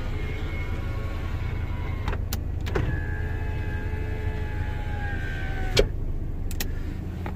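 The passenger-side power window motor of a 1993 Toyota MR2 whines steadily as the glass travels, with a couple of clicks and a soft thump where it stops, close up over a quiet idle.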